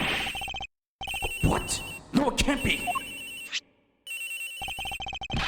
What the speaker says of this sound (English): This has gotta be the victim's cell phone!